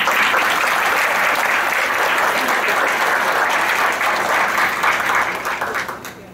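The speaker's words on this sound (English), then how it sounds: "Can we give them another round of applause?" A live-streamed university event at The American Women's College, Bay Path University: a large audience applauding in a dense, loud, sustained wash of claps that holds steady for several seconds, then thins and fades near the end.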